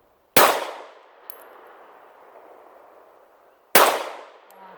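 Two sharp, ringing metallic clangs about three seconds apart as Glock 17 handgun rounds strike steel target plates outdoors, each hit followed by a fading shimmer.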